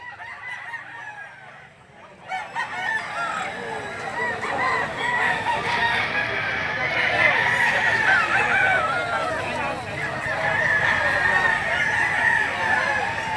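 A flock of gamefowl chickens and roosters clucking and crowing together, a dense continuous chorus close by, with someone talking faintly underneath.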